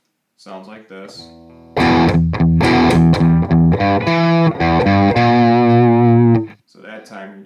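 Variation of a riff on distorted electric guitar, a few quieter picked notes leading into about five seconds of loud, dense chugging and sustained chords before fading into softer notes.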